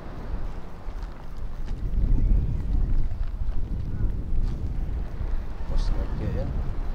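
A speedboat out on an overcast sea gives a low, steady engine drone at a distance, mostly buried under heavy wind buffeting the microphone.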